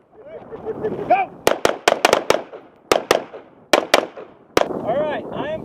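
Gunshots crack out during a tactical shooting drill, about a dozen sharp loud reports in quick bursts and singles, with a voice calling commands before and after them.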